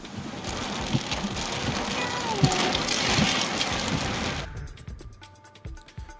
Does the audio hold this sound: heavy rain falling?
yes